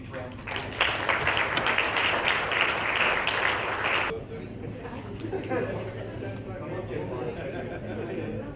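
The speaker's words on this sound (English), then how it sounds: "I'd like you all to give yourselves a huge round of" A large conference audience at a customer experience summit in Malaysia gives a round of applause, dense and loud for about four seconds before cutting down to scattered claps and crowd murmur with voices.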